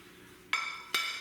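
Two sharp metallic clinks land about half a second apart as meat and pasta go back into a skillet for spaghetti carbonara, each strike ringing briefly over a quiet kitchen background.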